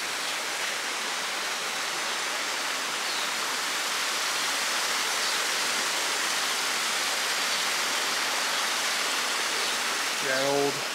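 Steady rushing water roars continuously at Greenfield Village, a broad even hiss like a nearby waterfall, with a brief faint voice near the end.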